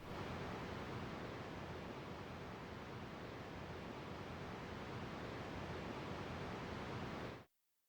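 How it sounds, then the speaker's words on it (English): Steady, dense rushing wind ambience from the Lyra starter game level in Unreal Engine 5, broad and even, continuing unchanged for several seconds before cutting off abruptly. "The wind sound is used as a static 2D ambience that plays throughout the level"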